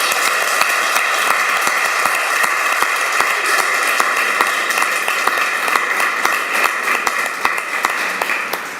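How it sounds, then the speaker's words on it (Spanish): Applause for Sergio at a University of Málaga closing ceremony: loud, sustained clapping from the audience, with sharp individual claps popping out at a fairly regular pace over a steady bed of sound and a faint tonal hum underneath. "pero un aplauso muy grande a Sergio por su labor"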